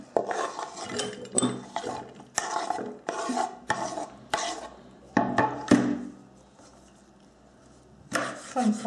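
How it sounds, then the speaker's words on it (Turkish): An onion is sliced with a knife on a board in a chicken and vegetable stew recipe, the blade giving a run of close, crisp chopping strokes in bursts, with a pause before the cutting starts again. "Sebzelerimizden soğanı da şöyle fazla ince olmayacak fakat fazla da kalın olmayacak şekilde doğruyoruz."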